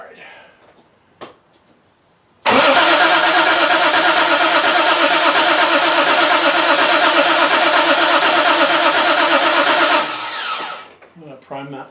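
A 1968 Triumph TR250 fitted with Weber carburetors cranks and fires, settling into a loud, steady idle that runs for several seconds before cutting off, with brief voices nearby before and after.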